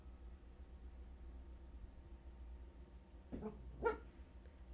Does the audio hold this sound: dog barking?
yes